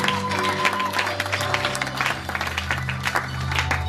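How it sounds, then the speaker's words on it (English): Steady applause from a church congregation, dense clapping filling the whole stretch, with a low sustained tone underneath. "Can you clap our hands for the glory of God?"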